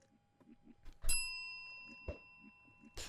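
A video game bell rings out with a bright metallic ding that lingers, followed by quieter sharp clicks and thumps, with faint speech-like murmurs low in the background.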